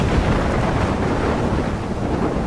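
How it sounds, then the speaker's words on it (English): Storm in the game Life Is Strange: steady roaring wind and rumbling thunder fill the scene at a constant, loud level, with a broad wash of noise and no speech. "I'm trapped in a storm?"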